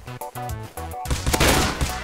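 Gunfire from a non-pistol gun in the survival game Rust, on Savas Island PVP: after a second of tonal game sound, loud, rapid, dense shots crackle continuously close by.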